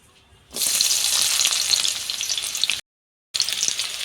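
Onion hits hot mustard oil in a wok with a sudden loud, steady sizzle that continues for a couple of seconds, cuts out briefly, then resumes.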